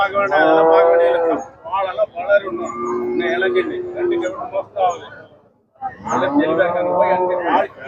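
Kangeyam cattle and calves low and moo repeatedly at a busy outdoor cattle market, long loud bellowing calls rising over crowd chatter and background noise.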